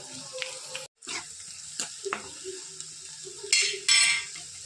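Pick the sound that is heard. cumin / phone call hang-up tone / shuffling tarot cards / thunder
cumin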